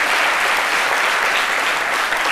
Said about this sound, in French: nous vous applaudissons pour votre courage